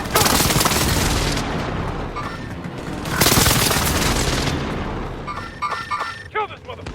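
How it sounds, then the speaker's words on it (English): Precision airstrike explosions in the video game Call of Duty Warzone, two long loud booming blasts with rumbling gunfire and game sounds, then quieter game noise at the end. "Enemy precision airstrike."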